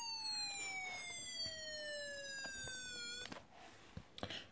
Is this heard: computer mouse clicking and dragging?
no